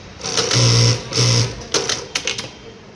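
A JACK KJ-2000A2 industrial sewing machine runs after being reset. It makes two short bursts of close, humming, rapid stitching, followed by lighter mechanical clicks and taps.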